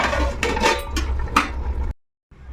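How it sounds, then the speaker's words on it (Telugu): Metal lid set onto a cooking pot of semiya upma, a few clinks and clatters of cookware up close, followed by a brief silence and a faint return of kitchen noise. "ఇంకా ఇప్పుడు మూత పెట్టేసుకుందాం"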